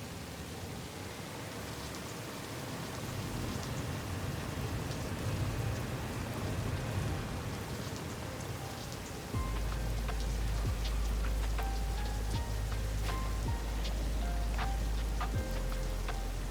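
Rain and a thunderstorm in the factory-building video game Satisfactory: steady hissing rainfall throughout, then a heavy low rumble of thunder rolls in partway and sustains under the rain, with scattered sharp drop ticks.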